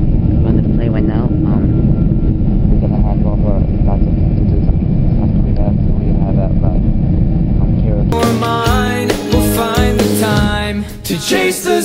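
Airplane cabin noise during flight, a constant low rumble heard under close talking for most of the stretch before music takes over near the end.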